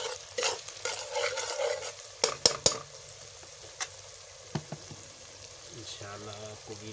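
Kaddu masala, a spiced pumpkin curry, sizzles softly in a pan as a spoon stirs it. Several sharp scrapes and clinks against the pan stand out over the low, steady frying.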